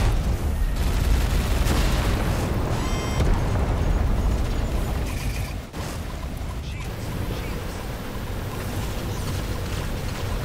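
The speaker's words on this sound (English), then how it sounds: "Lots of little drones, so I'll use my flak cannon." A flak cannon in a space-combat video game fires at swarms of small drones, dense continuous booming bursts layered with explosions and engine roar, loud and unbroken throughout.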